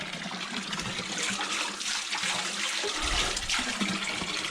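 A strong stream of water pours steadily from an old restored fountain at a historic site, a loud, constant rushing splash heard close up with no talking.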